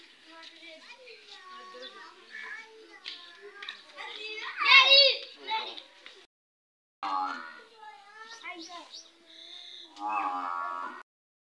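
A water buffalo tethered near a village haveli lows in a long, low call, mixed with children talking and playing close by for much of the time.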